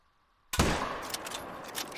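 A single loud rifle shot from a new 7mm bolt action cracks out of near silence outdoors, followed by a long rolling echo that slowly fades.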